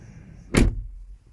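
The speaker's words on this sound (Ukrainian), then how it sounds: "Відкриваємо двері" Car door on a Chrysler, Jeep or Dodge vehicle: one short, solid thump near the microphone, a single door impact that fades quickly over a quiet background, no voices.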